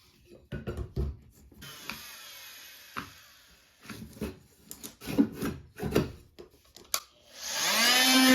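A hand tool notching out a bathroom tile: rough rasping and scraping strokes in irregular bursts with sharp knocks between, ending in a loud steady whirring hum.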